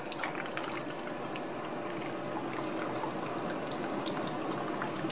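Hot water poured into a bowl for cleaning a diamond or sapphire ring, a continuous close splashing rush of liquid lasting the whole stretch with no talking.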